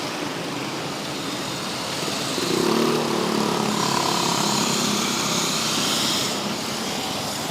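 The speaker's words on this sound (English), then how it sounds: "That's a pretty decent bike." A big 1300cc motorcycle passing on a city street, its engine drone swelling in the middle and then fading away amid steady street noise.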